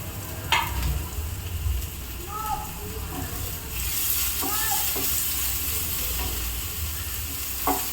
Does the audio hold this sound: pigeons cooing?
no